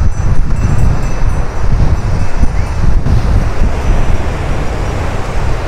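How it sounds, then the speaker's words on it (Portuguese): Calm waves wash onto Praia Formosa beach in Cabedelo, a steady broadband roar of surf mixed with heavy wind buffeting the microphone, continuous and loud throughout with no voices. "Uma praia, pessoal, com ondas calmas."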